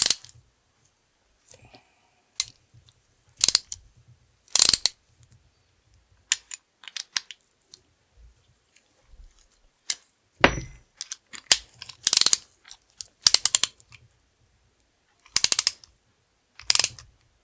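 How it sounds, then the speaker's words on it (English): A ratchet works in short, irregular bursts of clicking while parts are tightened on a Losi 5ive T radio-control truck kit build, close up, with quiet pauses between bursts and no talk. "Get my ratchet."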